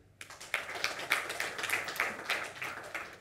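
Scattered hand claps from a small audience at a tech conference talk, several people clapping unevenly for a few seconds at moderate volume.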